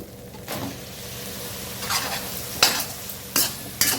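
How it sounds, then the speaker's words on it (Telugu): Mushrooms fry with masala in a pan. There is a continuous close sizzle, and loud scraping bursts from a spatula stirring the pan come a few times near the end. No one speaks. "ఇప్పుడు మష్రూమ్స్ కూడా దీంతో పాటు కాసేపు వేగనిద్దాం"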